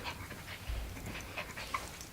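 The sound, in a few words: small dog panting and playing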